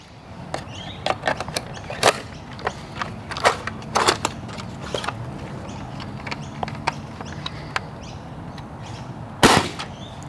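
Sharp clacks and pops from a ZWQ S100s bolt-action Nerf sniper blaster fitted with a stronger 2.0 spring, irregular snaps and bolt racking over several seconds, one loud shot near the end.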